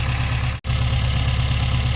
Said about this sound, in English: I think I can hear the tractor's engine knocking